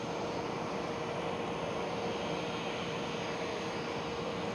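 Steady broadband roar of a Lufthansa CRJ regional jet at Amsterdam Schiphol Airport, a continuous engine rumble and hiss that holds at an even level throughout with no voices.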